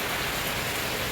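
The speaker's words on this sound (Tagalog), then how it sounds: "Umuulan na talaga" Steady, dense rain falls on surfaces during a power outage at a home, a continuous even hiss with no pauses, fairly loud and close throughout.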